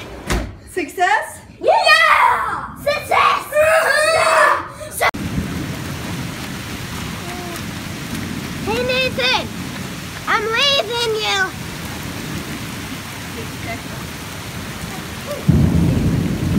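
Thunderstorm with steady rain and wind noise, low rumbling throughout, with a door and voices in the first few seconds and more talking in the middle; heavy continuous wash of rain sound.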